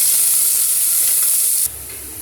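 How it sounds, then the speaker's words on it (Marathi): Onions sautéing in a home kitchen pan while cooking a chavali (black-eyed pea) rice dish, giving a steady loud sizzling hiss throughout that drops to a quieter sizzle near the end. "आता आपण कांदा छान परतून घेऊया"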